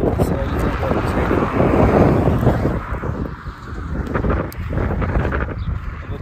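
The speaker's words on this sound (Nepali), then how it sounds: "हावा पनि चलिरहेछ" Wind blows steadily outdoors in green summer countryside, a loud continuous rushing buffeting the microphone with gusts that swell and ease.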